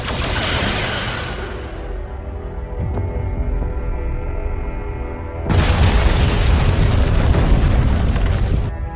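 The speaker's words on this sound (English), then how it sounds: "Destroy the vault. Aye, Captain. Firing photon torpedoes." Photon torpedoes fire and explode in the Star Trek: Resurgence video game: a loud, deep boom opens, then a sustained hum with a tonal drone, and a second heavy blast bursts in about halfway through and rumbles on.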